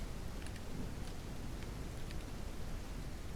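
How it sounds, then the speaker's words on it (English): Pouring rain in the Ranch Simulator video game, a dense, even hiss of rainfall holding steady throughout with no other sounds. "as it's pouring down rain on us here"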